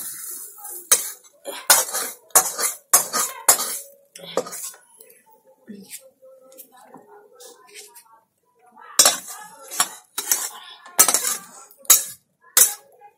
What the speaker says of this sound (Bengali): এবার এই থালাটার ভিতরে নামিয়ে দিই।